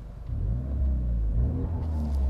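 A Renault Megane 3 RS fitted with a stainless steel exhaust line revs briefly, giving a deep, steady low rumble that swells slightly from idle and stays close and fairly loud, with no talking.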